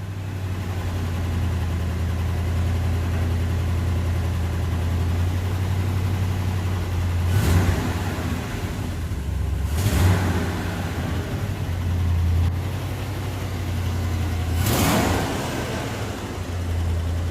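A 1974 Ford F-250 high-boy pickup with a manual gearbox and a Sniper EFI fuel-injection problem idles with a steady low rumble, then revs in three surges as it pulls out for a test drive. The engine is loud, near and continuous.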